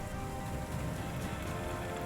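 Steady, dense rain pours loud and close across a surface in a tabletop-game storm ambience, a continuous hiss without clear breaks.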